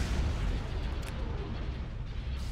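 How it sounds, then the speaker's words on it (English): Hypervelocity cannon fire in Star Wars Empire at War, a dense rumbling barrage of booms and blasts that continues without a break, loud and close with no talking. "Hypervelocity cannon firing."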